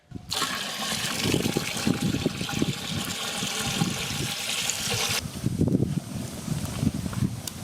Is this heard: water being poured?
yes